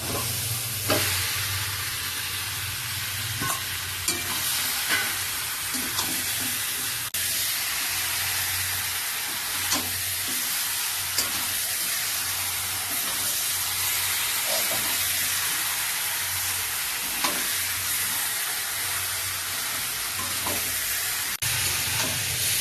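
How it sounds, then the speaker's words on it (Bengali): Washed, cut chicken pieces sizzle and fry steadily in a pan for a home-style thin chicken curry, a constant close hiss with scattered stirring scrapes and clicks, no voices. "কেটে ধুয়ে রাখা চিকেনটা দিয়ে দেবো"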